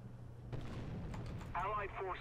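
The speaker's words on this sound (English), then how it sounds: "let's drop some arty on A" Artillery strike in a tank combat game, a low muffled boom followed by rumbling, then crackling debris at mid distance, all quiet and brief.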